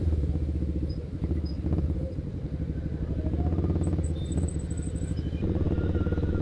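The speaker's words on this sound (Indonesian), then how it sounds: "motor seperti ini memang suaranya harus seperti itu sih" Honda Rebel 500 motorcycle engine running steadily up close, a deep, loud, continuous low throb with faint higher tones drifting above it.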